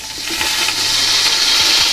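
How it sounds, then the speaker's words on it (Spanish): A 4-ounce cup of water is poured into a cooking pot while a Cuban caldosa with sofrito is being made, giving a short, loud, continuous splash and gurgle close by. "A esto le vamos a adicionar una taza de 4 onzas de agua."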